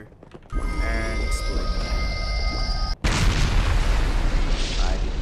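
A ship explodes in the Roblox game Grand Piece Online with a sudden loud boom, and a dense rumbling blast fills the rest of the moment after an earlier whooshing build-up.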